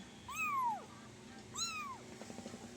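A kitten meows twice, close and clear, each cry a drawn-out, falling wail separated by a short pause, with faint rustling between them.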